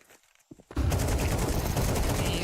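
Gunfire erupts in a Counter-Strike 2 pistol round at a major tournament in Copenhagen: after a near-silent start, a dense burst of rapid, loud shots continues without pause.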